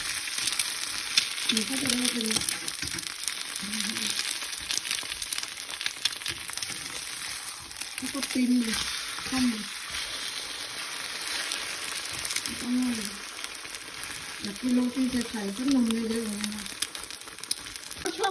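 Roti with egg frying in a home kitchen pan, a steady hiss and crackle running throughout, with a voice talking at intervals over it.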